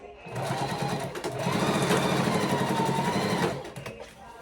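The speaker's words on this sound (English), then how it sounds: "I'm going to sew across it" A sewing machine runs a quick straight stitch across ribbon on ruffle socks, a close, steady mechanical whir lasting about three seconds, with the motor speeding up midway.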